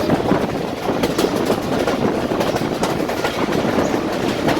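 A passenger train on the Golra to Rawalpindi line in Pakistan rolls steadily along the rails with a continuous rumbling roar and faint rhythmic clatter of wheels, close and loud throughout.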